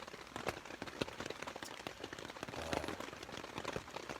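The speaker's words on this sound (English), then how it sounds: "Torrential rains." Torrential rain pours on a canoe camping trip along the Connecticut River, a dense, continuous patter of heavy drops striking surfaces nearby, steady and unbroken with no talk.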